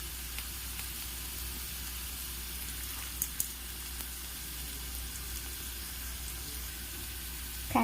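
Urad dal frying in oil alongside carrots for upma, a soft continuous hiss of sizzling with a couple of faint clicks and no talking.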